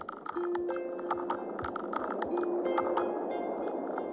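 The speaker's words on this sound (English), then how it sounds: "This is the sound of their munching teeth, amplified by their shells" Rapid crackling and clicking underwater as sea urchins munch kelp with their teeth, dense irregular ticks over a hiss, with a faint steady tone.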